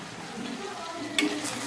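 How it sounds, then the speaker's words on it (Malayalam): A spoon stirs ivy gourd stir-fry in a hot pan with the lid off, soft scraping over a constant low sizzle, with a brief sharper clink near the end. "മൂടി തുറന്നൊന്ന് ഇളക്കി വെക്കാം"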